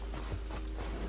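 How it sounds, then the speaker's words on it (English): A horse's hooves clip-clop in a quick, even rhythm under a dense wash of broadband noise that stays loud and unchanging across the short stretch. "Oh no, that's my horse"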